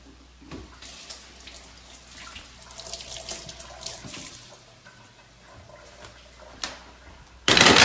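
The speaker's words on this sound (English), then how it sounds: "I rinsed my yams. I'm gonna rinse these as well." Yams and other produce are rinsed under a kitchen sink tap, with water running and splashing steadily at moderate level, then gushing loudly at the very end.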